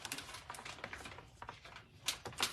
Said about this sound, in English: And I'll trim off a bit off the end here